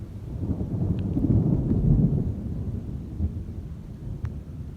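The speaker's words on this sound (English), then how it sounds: "lightning and thunder." Low, rolling rumble of thunder building and fading over several seconds, with steady heavy rain or wind noise underneath and no voices.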